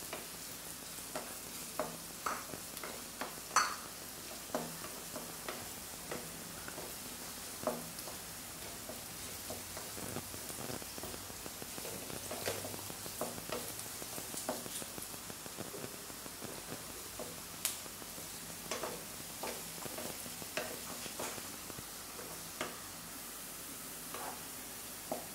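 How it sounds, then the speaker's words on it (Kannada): Prawns fry in a pan for a spicy prawn chilli, giving a steady sizzle with scattered stirring clicks and scrapes throughout, fairly close and moderately loud, with no talking. "ಇದನ್ನು ಚೆನ್ನಾಗಿ ಫ್ರೈ ಮಾಡ್ಕೊಳ್ಬೇಕು. ಮತ್ತು ಬಣ್ಣ ಬದಲಾಗೋ ತನಕ ಚೆನ್ನಾಗಿ ಫ್ರೈ ಮಾಡ್ಕೊಳ್ಳಿ."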